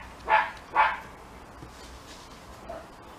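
A Scottish terrier gives two quick, loud barks nearby, followed by a couple of fainter, softer yips in an otherwise quiet indoor space.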